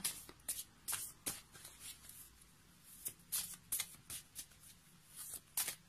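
Large heart-shaped healing energy oracle cards being shuffled, a soft crisp riffling that repeats in bursts of flicking and slapping, close and quiet with no voice over it.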